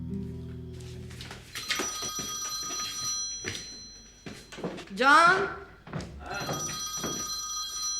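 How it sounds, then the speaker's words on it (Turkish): A telephone rings with a bright repeating electronic tone in a home setting, sounding in bursts beneath people talking, with a thunk and movement noises around it. "Telefon."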